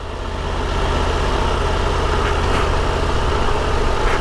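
A Triumph Tiger 1200 Rally Pro motorcycle engine pulls along in second gear with no throttle, a steady low rumbling drone over constant wind rush, loud and close, without voices.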